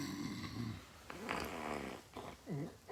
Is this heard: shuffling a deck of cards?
no